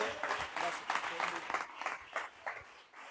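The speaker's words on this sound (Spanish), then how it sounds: "¿Alguien puede aplaudir la gloria del Señor?" A church congregation claps in praise during a Spanish-language sermon, an uneven burst of applause mixed with voices calling out, fairly close and moderately loud, swelling and dipping over a few seconds.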